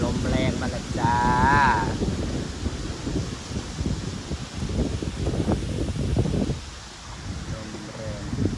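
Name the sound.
strong wind blowing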